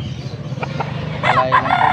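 A gamecock rooster crows once, loud and close, at a poultry market in Pampanga, following a short stretch of softer background noise.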